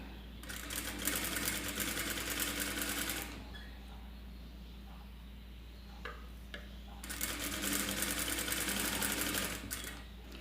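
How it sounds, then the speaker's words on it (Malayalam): A sewing machine runs in two steady bursts while stitching thread piping onto fabric, such as a saree blouse, with a quiet pause between them and no talking. "ചേർത്തങ്ങോട്ട് അടിക്കുമ്പോൾ സ്റ്റിച്ച് നൂലോട് ചേർന്ന് വരും"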